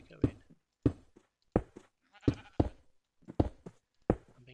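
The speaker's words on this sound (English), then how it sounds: "I'm being pushed around by a sheep." Minecraft sheep bleat repeatedly in short, evenly spaced calls, about eight of them over a few seconds, clear and close in the game.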